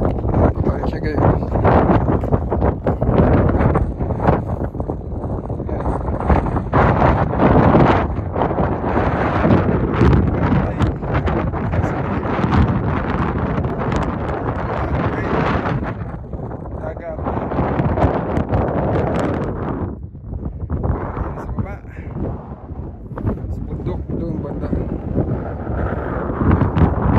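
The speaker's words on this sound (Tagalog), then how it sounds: "Hangin." Strong gusting wind buffets the microphone on a hilltop at Bray Head, Wicklow, roaring in continuous loud blasts that rise and dip, with people talking intermittently underneath.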